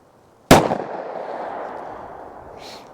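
A single sharp 9mm shot from a Taurus GX4 pistol firing Norma Monolithic Hollow Point ammunition, loud and close, followed by a long echoing decay outdoors and a faint later click.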